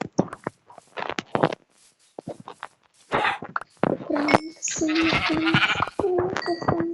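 Sheep bleat repeatedly in Minecraft, several short nasal bleats in the second half, among clicky taps and game sound effects up close.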